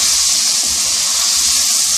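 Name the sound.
water added to potatoes frying with spices in a pan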